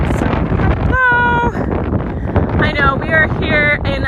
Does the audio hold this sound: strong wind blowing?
yes